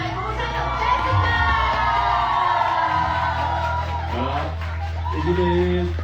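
A crowd cheers, whoops and shouts loudly right after a live duet of a love song sung by a married couple, with voices talking and calling out over the noise.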